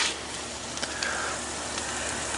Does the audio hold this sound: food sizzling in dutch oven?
yes